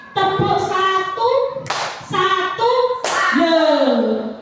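A group claps hands during an ice-breaking clapping game at a school workshop on positive culture, with a few sharp bursts of claps breaking through loud chanting and talking voices.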